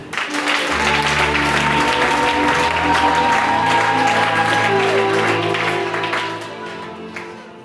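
A congregation at a church service breaks into loud, sustained applause and cheering lasting several seconds over a held musical tone, then fades out near the end.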